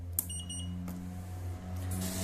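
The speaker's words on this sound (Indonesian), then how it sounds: "Buzzer bunyi bip 2 kali, kita lepas." A UPS DC module beeps as it enters setting mode, giving two short, sharp electronic buzzer beeps near the start over a constant low electrical hum, with no talking.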